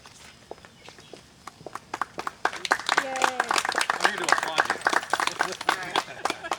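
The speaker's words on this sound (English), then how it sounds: "thanks for the applause" A crowd claps steadily, the applause growing louder and fuller partway through, with a brief voice over it.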